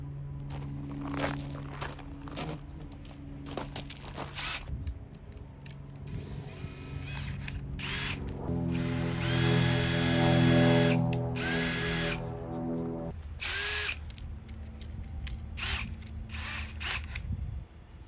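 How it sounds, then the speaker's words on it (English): Power drill boring holes and driving screws into a wooden platform for a DIY truck camper build, bursts of whirring motor close by with a long sustained run mid-clip and short stops between, no talking. "Slowly just drilled it, drilled the hole, and then sent it in with the screw."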